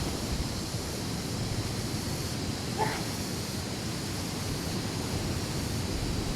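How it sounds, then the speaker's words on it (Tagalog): Ocean surf rolls steadily at Nagtabon Beach in Puerto Princesa City, a continuous broadband wash of breaking waves heard alone at moderate level, with no one speaking. "Yan ang ganda ng alon."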